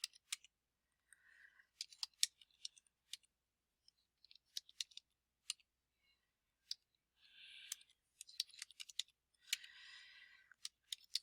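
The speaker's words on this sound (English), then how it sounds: "I'm using my keypad to make it go a little faster here." Rapid clicking of keys on a computer keyboard's numeric keypad as numbers are typed into a table, a quick irregular patter of light taps with short bursts and pauses, close and moderately quiet.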